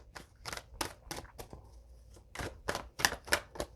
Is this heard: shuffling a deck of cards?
yes